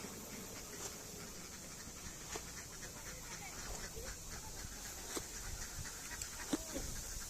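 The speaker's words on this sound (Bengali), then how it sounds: "দেখেন কত হাঁস দেখছেন, cock cock pack pack pack pack pack pack করতেছেন।" A large flock of ducks quacks faintly and intermittently in the open near water where fish are being caught, the scattered calls spread over a steady windy outdoor hiss.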